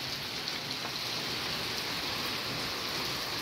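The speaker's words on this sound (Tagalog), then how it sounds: "umuulan na naman ang" Steady rain falls on surfaces outdoors, a soft, even hiss of many drops holding constant and fairly quiet with no talk over it.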